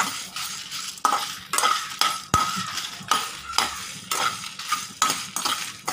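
Small onions and chillies sizzle in a hot pan for a Chettinad fish curry, with repeated stirring scrapes and utensil clinks against the metal at a steady rhythm, close and fairly loud.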